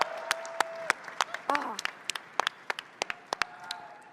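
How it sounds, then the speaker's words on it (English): Audience applause at a ServiceNow tech conference session, scattered sharp hand claps rather than a dense roar, with a brief vocal exclamation partway through. "Please give him a huge round of applause."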